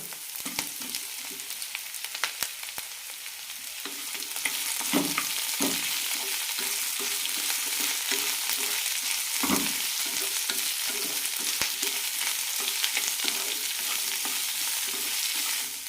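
Capsicum and onions sizzle steadily in a pan, with a spatula scraping and stirring in irregular clacks over the continuous frying hiss, close and without talk.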